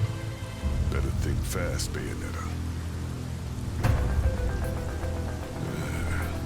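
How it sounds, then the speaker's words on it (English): A heavy rainstorm in the video game Bayonetta 3, a steady wash of falling rain with a sharp thunder-like crack partway through, running continuously under a character's voice. "Storm's a lot worse than I thought."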